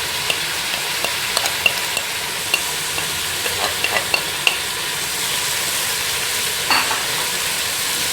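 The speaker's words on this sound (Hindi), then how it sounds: "ये डाल के इसको 1 से 2 मिनट अच्छी तरह से भूनूंगी" Chicken frying with ground red chili, turmeric and salt for a green bean chicken dish, a steady sizzle broken by scattered sharp pops and clinks of stirring, fairly close.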